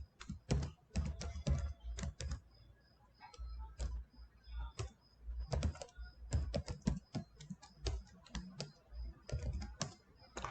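Computer keyboard keys tapped in quick irregular bursts while entering a number, crisp close clicks with short pauses between groups.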